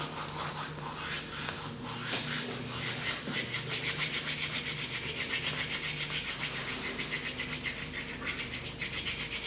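A pinch of dried mint is rubbed briskly between the palms up close: a quiet, steady run of fast, rhythmic dry rasping strokes with no talking.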